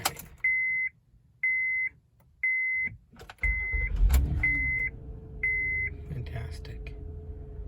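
A Honda Odyssey starting after a spark plug replacement: a chime beeps three times, then the engine cranks and catches with a short burst and settles into a low idle while more chimes repeat, nearby and clear.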